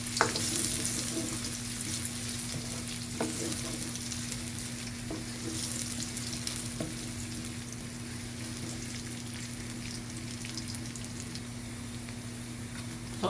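Onion frying in a pan for pork chop steak, a steady, close sizzle running unbroken throughout with a few faint stirring clicks and no talking.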